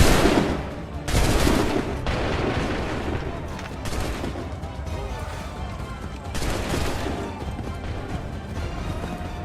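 A gunfire volley from a line of musket soldiers in the video game Assassin's Creed III, loud booming shots bursting at several moments with rumbling echoes between them, and a commanding voice heard briefly.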